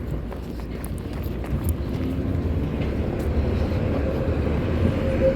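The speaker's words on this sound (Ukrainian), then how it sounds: "Трамвайчики скрізь їдуть." Trams rolling along a city street produce a continuous low rumble that swells slightly as they pass nearby, steady and fairly loud with faint metallic ticks above it.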